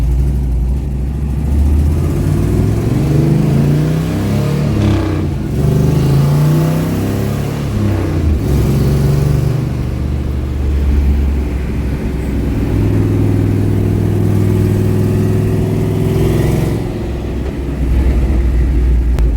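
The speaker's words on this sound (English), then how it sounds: "Going for a ride in the Punisher car after I broke it catastrophically at the No Name Nationals." A 700 hp turbocharged Pontiac LeMans drag car rumbles loudly from inside during a ride, its engine revving and surging in repeated pulls with a deep, steady drone between them.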